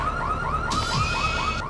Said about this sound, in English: For some reason has an alarm